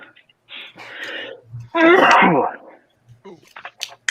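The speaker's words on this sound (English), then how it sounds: "Oh, I gotta sneeze." A single loud sneeze bursts out in the middle, with soft voice sounds and breathing before and after it.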